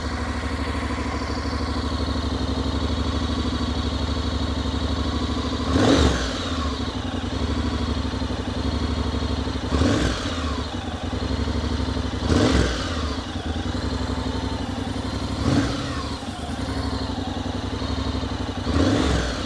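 Honda NC750X fitted with a Delkevic 340mm exhaust idles with a steady, close rumble, broken by four sharp throttle blips that rev it up briefly and fall back to idle.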